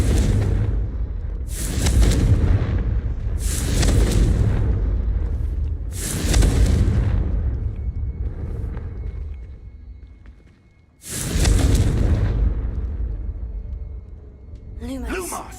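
Confringo blasting spell in Hogwarts Legacy, fired again and again: five loud, booming, rumbling blasts with short gaps between them, each one fading out, and a brief voice near the end.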